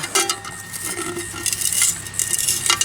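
Close, gritty rattling and scraping of small loose bits inside a small metal cooking pot, with light clinks as it's shaken.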